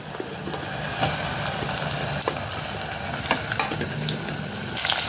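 Mango pieces dropped into hot oil tempered with fenugreek and dried red chillies, giving a loud, continuous close-up sizzle and crackle with small bursts and stirring.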